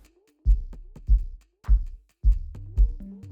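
A layered kick drum built in Ableton Live 12, transposed far down with a pitch envelope, thumping five deep booming hits with a falling pitch sweep in an uneven pattern, loud and alone.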